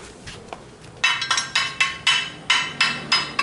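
A hammer strikes gasless MIG weld beads in a run of about a dozen sharp, ringing metallic blows, faint at first and then loud, close and evenly paced.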